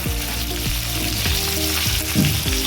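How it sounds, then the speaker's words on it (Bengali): Vegetables with green chilies fry loudly in a pan for a broad bean and potato rohu fish curry, a dense continuous sizzle with repeated scraping stirs and no talking. "এটা এখন ভালো করে ভেজে নেব সবজিটা"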